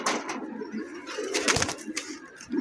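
A pair of Lakha pigeons kept for sale at a pigeon market coo in soft, throaty bursts close by, with a few brief flutters and a light background hum and no speech.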